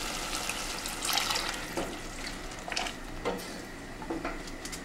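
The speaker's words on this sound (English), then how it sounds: "So I'm gonna add water to it." Water splashes and trickles steadily into a pot of Nigerian jollof rice, with soft irregular sloshing throughout and no talking.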